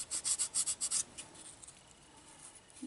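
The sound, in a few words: fine sandpaper sanding washer pump surface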